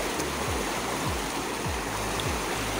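The Tinau river in flood sends up a steady, loud roar of rushing water with a constant broadband wash and no voices.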